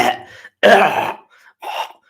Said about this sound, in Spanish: Estoy un poco ahí con la tos ahí